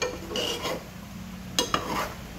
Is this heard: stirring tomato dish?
yes